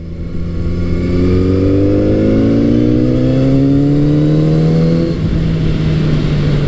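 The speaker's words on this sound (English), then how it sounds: "there's that great sound from that Kawasaki four-cylinder." A Kawasaki Z900RS four-cylinder motorcycle accelerates hard, its loud, close engine note climbing steadily in pitch, briefly dropping at a gear change, then pulling again.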